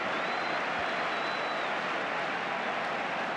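A football crowd at the 1982 FA Cup Final between Spurs and QPR cheers and applauds in a steady, dense roar of clapping and voices that fills the stadium without any break.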